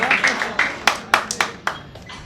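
Audience clapping at a pattimandram debate at Loyola College Chennai, a thinning round of applause with separate sharp hand claps standing out and fading away.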